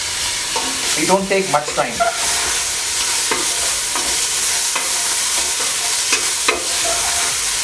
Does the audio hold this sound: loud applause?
no